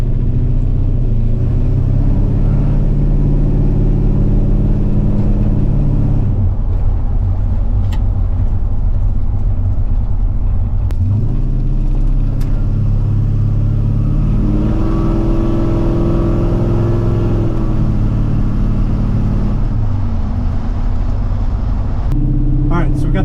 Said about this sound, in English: I'm going to drive this truck around a little bit and make sure it's got good readings.